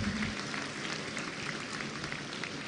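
A hall full of people claps to welcome the university founder at a Bolivian graduation ceremony honouring an eminent alumnus, producing a continuous, even wash of applause with no voices over it.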